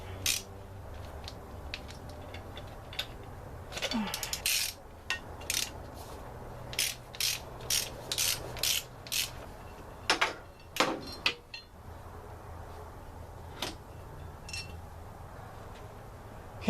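Ratchet clicks and metallic clanks from wrenching bolts off an engine bracket on a Honda Accord wagon during teardown for a new cylinder head, coming in scattered bursts of sharp taps over low background hum, fairly close, no talking.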